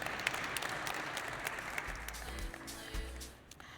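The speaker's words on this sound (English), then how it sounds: "A round of applause, please, as Annelien makes her way to stage." Audience applause at an African energy investment conference, a steady wash of many hands clapping that thins and fades toward the end, with a low rumble underneath.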